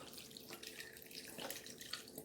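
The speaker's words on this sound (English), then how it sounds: "We're going to pour this whole carton in here." A whole carton of broth is poured into a cooking pot, making a soft, continuous trickling and splashing of liquid. It is quiet and close, with no talking.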